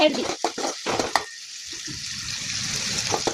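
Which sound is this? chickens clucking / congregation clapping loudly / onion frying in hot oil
onion frying in hot oil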